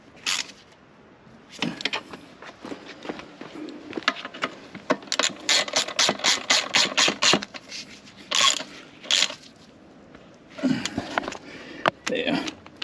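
Nearby ratcheting and wrenching clicks from tightening bolts on the chain adjuster of a 2015 Kawasaki Ninja 1000ABS motorcycle, coming in quick rhythmic bursts separated by pauses, with people talking at times.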